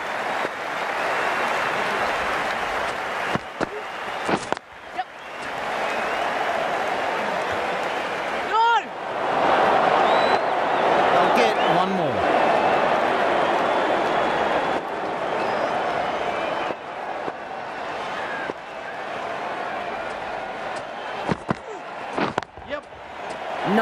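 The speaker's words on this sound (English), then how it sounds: "The crowd are loving this." Crowd in a cricket stadium applauds and cheers in a T20 cricket video game, a broad sustained roar of clapping running through the whole stretch, with a commentator talking over it at times.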